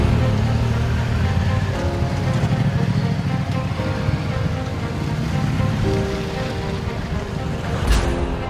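Heavy rain drums steadily on a vehicle driving off-road through wild Romania, blending with a low engine rumble and wet splashing into a dense, loud wash, with a brief sharp knock near the end.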